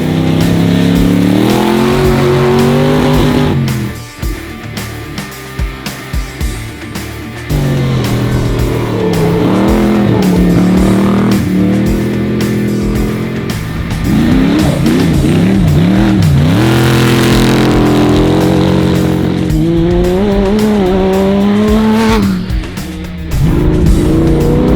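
Side-by-side buggies in the Gascoyne Dash desert race roar past loudly, engines revving and rising and falling in pitch as they approach and pass, with skidding tyres and a continuous, dense motor drone throughout.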